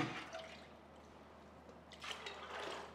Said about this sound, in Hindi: इसके अंदर आपने चने डाल देने हैं। इसके अंदर हम पानी डालेंगे।